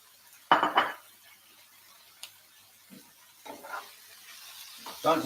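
Spinach tipped into a hot pan with garlic paste: a clattering drop of leaves and utensil against the pan, then quieter scattered clinks, stirring scrapes and a soft sizzle, close and intermittent, with no one speaking.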